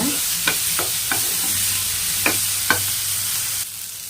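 Tomatoes sautéing in a pan, a steady close sizzle with several sharp scrapes of a spoon stirring at irregular intervals; the frying hiss drops off abruptly near the end.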